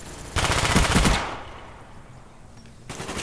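Loud automatic gunfire bursts in a Call of Duty: Black Ops free-for-all match on the Stadium map, a close rapid stream of shots for about a second, then quieter background, then another burst begins.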